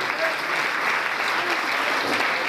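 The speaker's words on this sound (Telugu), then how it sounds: "ఒకసారి గట్టిగా చప్పట్లు" Children clap loudly together at a school event, a dense and steady burst of applause that fills the whole moment without a break.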